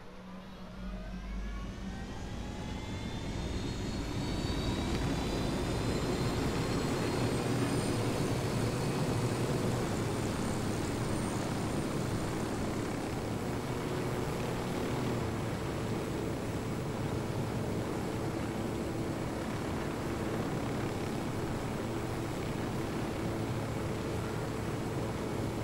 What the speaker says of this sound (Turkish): Helikopterle gezmek hiç tekin değil.